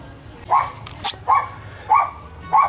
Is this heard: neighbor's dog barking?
yes